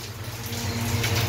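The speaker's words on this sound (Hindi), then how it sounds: "पूरा एकदम पानी गिर रहा है" Water falling steadily during a Bipodtarini puja ritual, a dense, continuous rushing and splashing wash at even loudness with no voices.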